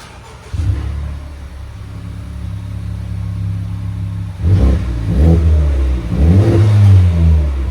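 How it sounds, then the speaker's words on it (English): A straight-piped, muffler-deleted 2020 Honda Civic Type R 2.0L turbo engine idles with a steady low rumble, then is revved in two loud, throaty bursts close by. "So it has a muffler delete on the Type R."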